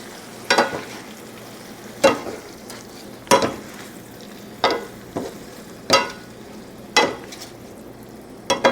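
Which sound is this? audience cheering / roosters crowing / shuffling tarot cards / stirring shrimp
stirring shrimp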